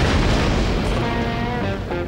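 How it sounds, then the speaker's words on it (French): Cartoon explosion in the desert: a loud, dense booming blast that fills the whole moment and rumbles on before tailing off. "Une explosion en plein désert."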